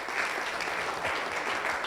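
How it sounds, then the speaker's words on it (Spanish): A church congregation at a ministers' gathering claps strongly and continuously, a dense, fairly loud wash of applause with no words. "Le da ese aplauso fuerte al Señor."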